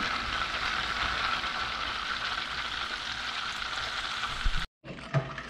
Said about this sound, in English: we'll let this simmer for around 10 minutes